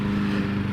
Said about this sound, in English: Pardon the lawnmower sound. The neighbor just started mowing.